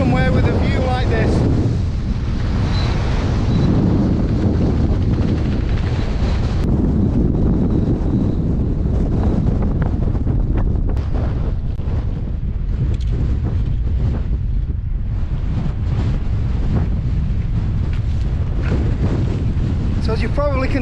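Strong wind gusts buffet the microphone on top of Lose Hill along the Great Ridge, a continuous loud, low rumbling roar that swells and eases without a break through the whole stretch.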